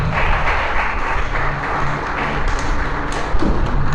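Applause from a church congregation after a sermon, steady dense clapping running the full length without a break.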